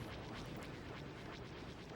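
Cannon fire in a Star Wars Battlefront-style battle on Kothlis: a dense, sustained barrage of deep booms and rumbling blasts, loud and continuous with no clear gaps between shots.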